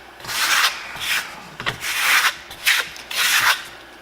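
A linear plastering tool rubs and scrapes across Marmorino Venetian plaster coated with varnish, in a series of loud, close strokes separated by brief pauses.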